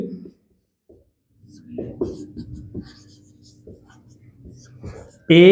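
Marker or chalk scratches out a trigonometry solution on a board in short, faint, intermittent strokes, and a voice speaks briefly near the end.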